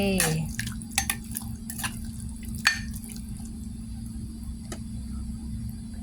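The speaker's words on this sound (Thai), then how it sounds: "ตำเสร็จแล้วใส่น้ำซุปลงไปพี่น้อง น้ำต้มปลาใส่ไปเลยค่ะ" Fish broth is poured into pounded fish dip made with loach, giving a few brief splashes and drips early on, then only a faint trickle over a low steady hum.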